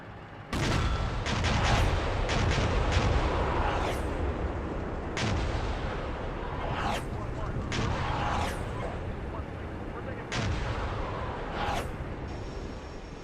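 Booming high-explosive artillery fire in a military video game, with repeated sharp blasts at irregular intervals over a steady loud rumble of battle, while voices talk over the radio throughout.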